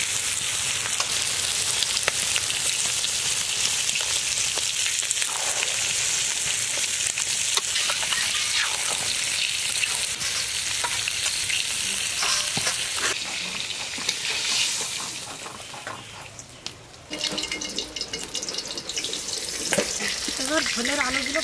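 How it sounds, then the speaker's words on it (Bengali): Water poured into a pan of fried prawns with ground cumin sets off loud, steady sizzling and bubbling, with a brief lull near the end before the frying resumes. "এবার জল ঢেলে দিচ্ছি।"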